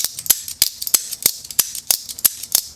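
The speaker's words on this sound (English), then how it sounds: "You could do a slow thumb opening, and the sound this thing makes is just" A Demko AD20.5 titanium folding knife is flicked open and closed repeatedly, making a rapid series of crisp, loud metallic snaps and clicks, about a dozen in quick succession with no talking.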